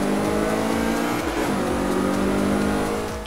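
A Mazda MX5 Cup race car in the Forza 5 racing game accelerates hard off the starting line, its engine droning loud and close with rising revs and a brief gear change midway.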